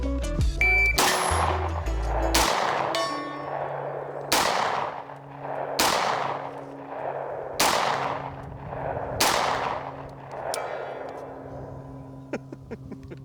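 A Sig Sauer MPX Copperhead 9mm fires about seven loud, sharp single shots spaced one to two seconds apart outdoors, each crack trailing into a long ringing echo.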